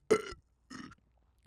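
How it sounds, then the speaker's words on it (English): Burp after drinking dark soda pop: two close, loud belches, the first stronger and rougher, the second shorter and softer, separated by a brief silence. "Dark pop makes me burp like a motherfucker."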